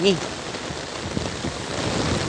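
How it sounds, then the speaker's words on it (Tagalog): Heavy rain pours down steadily as a dense, constant hiss of drops on a surface, loud and continuous throughout, with a brief tonal sound at the very start. "Ganyan po kalakas ang ulan."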